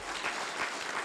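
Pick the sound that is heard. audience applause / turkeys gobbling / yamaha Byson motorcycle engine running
audience applause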